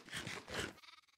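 Sheep bleats from Minecraft livestock, a few close, loud game bleats in quick succession ending in a stuttering, wavering tail, heard alone with no talk.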